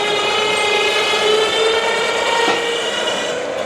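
A Bluetooth-controlled electric winch raises the stack on a 1,000-gallon TMG trailer, giving off a steady, even motor whine that holds close and constant throughout.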